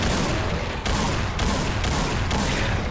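A salvo of gunfire blasts from Brutal Doom, the Hell on Earth level E3M6 Necropolis, as a dense, loud barrage with repeated heavy shots about every half second, close and alone without talk.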